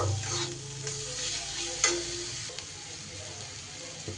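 Cauliflower and paneer curry is sautéed with salt in a pan, a close, steady sizzle with occasional spoon clinks and scrapes against the metal.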